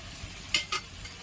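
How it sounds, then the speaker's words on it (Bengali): Chhatu mixture for a Bengali-style shikh chhatu dish is stirred in a pan over a soft sizzle, with two sharp scraping strokes of the spatula standing out close and clear. "আরো ভালো করে কষিয়ে নেব"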